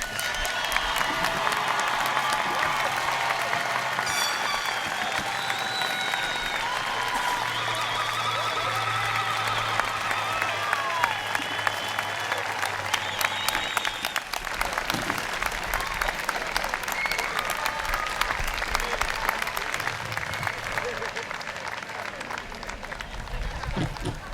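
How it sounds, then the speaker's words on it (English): A long, sustained round of applause from a large crowd at a university commencement honors the graduates. Steady, dense clapping runs throughout, with scattered cheers and whistles mixed in. "Can we please give these graduates one long round of applause?"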